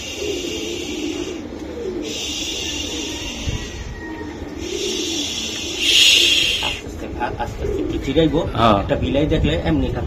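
Giribaz racing pigeons cooing in repeated low, throaty phrases, close by, while a person talks over them and a brief high squeak sounds midway.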